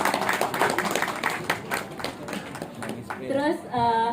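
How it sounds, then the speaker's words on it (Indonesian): A studio audience breaks into brief applause, scattered claps blending with chatter before a voice takes over. "Tepuk tangan dong buat Prilly ya juga."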